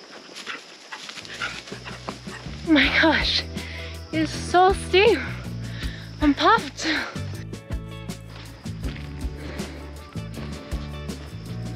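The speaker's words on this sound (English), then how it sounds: "Look at that dog." A dog in the Valle de Cocora countryside in Colombia whimpers and yelps in high, sliding bursts, close and fairly loud, over a low background rumble, with people's voices nearby.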